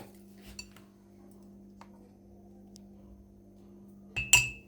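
Spoons clink against a bowl as sugar and yeast go in for homemade pastry dough: a few light, sparse metallic taps over a quiet room, ending in a louder cluster of clinks.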